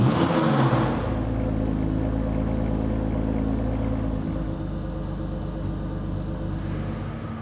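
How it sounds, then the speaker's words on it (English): A Ford Barra engine in a racecar idles with a steady, deep, lumpy rumble, loud and close, holding an even tone throughout with no voices over it. "It does have that Barra idle"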